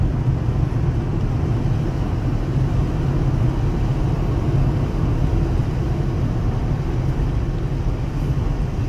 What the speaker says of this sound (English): Drives good down the road, drives straight.